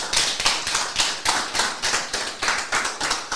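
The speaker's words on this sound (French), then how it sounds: "Je pense qu'on peut l'applaudir" A small conference audience claps for speaker Michel Seelig in a steady, moderately loud round of applause, with individual hand claps distinct and evenly paced.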